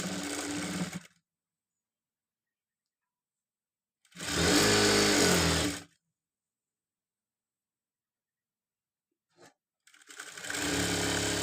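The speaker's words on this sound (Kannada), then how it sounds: "ಈಗ ನಾನು ಈ ಸೈಡನ್ನು ಸ್ಟಿಚ್ ಮಾಡ್ಕೊಳ್ತೀನಿ." A sewing machine stitches the side slit of a chudidar top in two loud, steady close-up runs of about two seconds each, separated by long silences, with a brief click before a third run begins.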